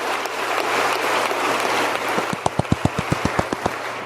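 Applause from a played political speech video, with a steady wash of crowd clapping joined near the end by a run of about ten sharp, fast, evenly spaced close claps from one person.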